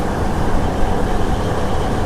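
A long DEMU diesel passenger train from Nandyal to Tirupati in Andhra Pradesh, near Yerraguntla Junction, runs at speed with a steady, dense rumble and roar that holds level throughout.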